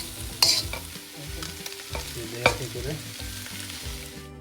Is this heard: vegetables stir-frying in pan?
yes